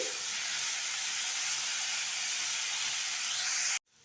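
Pumpkin pieces frying in oil over a medium flame, giving a steady, loud broadband hiss and sizzle that runs evenly and then cuts off abruptly near the end.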